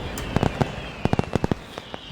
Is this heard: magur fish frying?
no